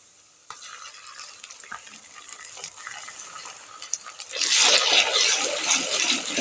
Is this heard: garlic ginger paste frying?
yes